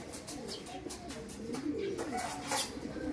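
A racing pigeon coos in a low, rolling, repeated call close by, alongside faint chirps and light rustling.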